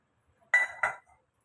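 Pieces of raw mango drop into a steel mixer jar, two quick close metallic clinks in a row, then silence.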